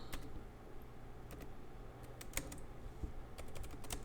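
Computer keyboard typing: scattered clusters of crisp keystrokes over a steady low hum, close by and fairly quiet, with no voices.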